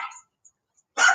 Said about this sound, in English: So there's a dog across the other side,